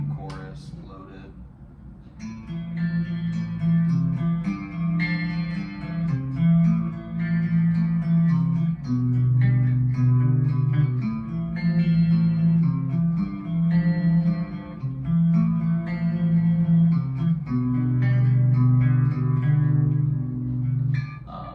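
A 90s-style electric guitar rhythm tone, loaded with reverb and chorus, plays continuous chords and riffs for the whole stretch. It is loud, full-bodied and shimmering, with no talking over it.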